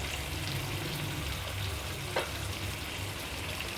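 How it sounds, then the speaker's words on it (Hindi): Whole spices, black cardamom, half a star anise, cumin and black pepper, fry in oil in a pan as the base for a chicken potato curry. They make a steady, faint sizzle throughout with no speech. "हम इसमें डाल के तो इसको फ्राई करेंगे"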